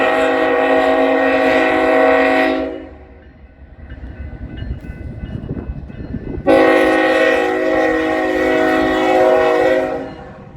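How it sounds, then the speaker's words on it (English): A southbound BNSF crude oil or ethanol freight train on the Sioux City Sub sounds a loud horn, breaks off to the rumble of passing cars, then blasts the horn again near and strong. "this is a southbound crude train or ethanol train"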